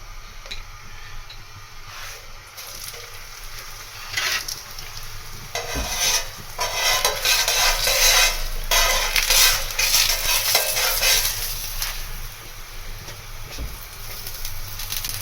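A paratha crisps on a griddle over a gas flame, a low burner roar under a sizzle that swells in the middle, with occasional faint ticks and scrapes.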